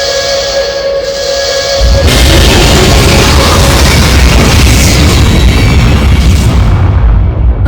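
A heavy cannon blast in an adventure video game erupts after a quiet moment, then a loud, dense roaring rumble sustains for several seconds before trailing off.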